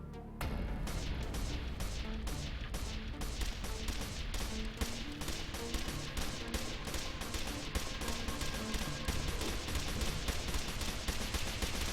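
Assault hound units open fire in the strategy game Anomaly 2, a dense, continuous barrage of rapid gunshots and bursts that carries on without a break, loud and close, with no talk over it.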